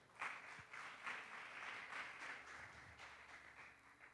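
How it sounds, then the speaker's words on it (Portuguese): Church applause from a congregation at a worship service, a faint, distant wash of clapping that carries on steadily for several seconds and is partly blurred by the room. "Vamos dar uma salva de palmas para ela"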